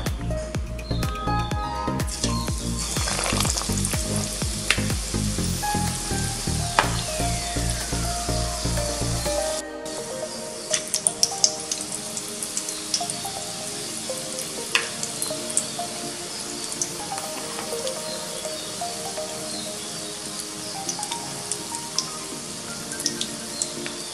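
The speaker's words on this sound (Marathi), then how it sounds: "आता आपण बाकीचे पण वडे तळून घेऊया." Vada pav potato fritters deep-fry in hot oil, a steady bubbling sizzle broken by clinks and light stirring sounds, with a sharp change partway through as the frying settles into a quieter, constant hiss.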